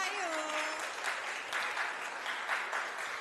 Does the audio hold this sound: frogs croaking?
no